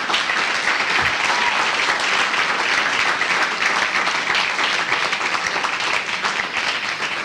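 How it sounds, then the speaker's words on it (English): Sustained applause from a theater audience for actors who just performed a play, dense even clapping filling the room throughout and easing slightly near the end. "Let's give another round of applause to Shana Solomon and all the actors who just performed in The Things We Make."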